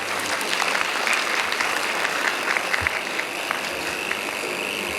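An audience at an international technology and management conference claps during a felicitation of a guest of honor, a steady, moderately loud patter of many hands that holds evenly, with a faint low rumble underneath.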